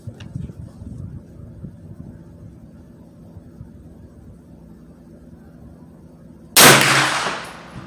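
A single sharp, loud report from a 9mm Ruger PC Carbine Tactical rifle at an outdoor range rings out near the end, following several seconds of quiet low background rumble.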